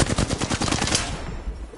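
Rapid automatic gunfire in a video game firefight, a loud close burst of quick shots that trails off into fading echo.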